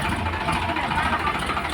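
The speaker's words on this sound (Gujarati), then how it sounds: "જો ટ્રેક્ટર જાય છે" A low, rumbling tractor diesel engine runs steadily close by as the tractor drives off, a continuous mechanical chug with no talking.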